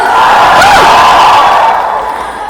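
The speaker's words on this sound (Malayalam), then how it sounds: "പക്ഷെ നിങ്ങൾ ഇത്ര ആരവം വെട്ടുന്നു ഞാൻ പ്രതീക്ഷിച്ചില്ല" A large crowd at a film success celebration in Calicut roars and cheers loudly and continuously, a dense wall of voices that tapers off slightly toward the end.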